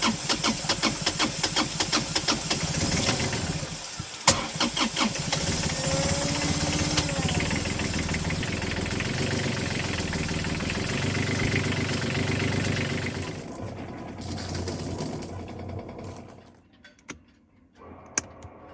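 Inboard engine of an Ohlson 38 sailing yacht turning over and settling into a steady idle, a close mechanical chugging rumble with rhythmic knocking that runs for a while before cutting out near the end.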